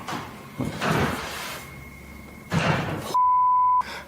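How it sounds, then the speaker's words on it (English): A door closes inside the Stanley Hotel with a couple of dull thuds and rumbling movement, followed by a steady electronic beep that cuts off abruptly. "I just had a door closed on me."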